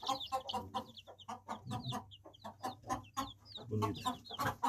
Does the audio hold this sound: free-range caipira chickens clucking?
yes